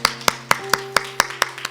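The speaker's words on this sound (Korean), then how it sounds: "우리 하나님께 영광의 박수 올려드리겠습니다." A church congregation at a Wednesday worship service claps in unison, about eight sharp, evenly spaced claps in quick rhythm over a sustained held tone, like a keyboard chord.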